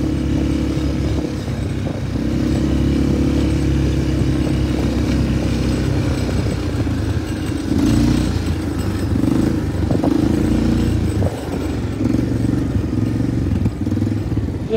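A motorcycle engine runs steadily close by outdoors, a continuous rumble with some clatter and no clear talk over it.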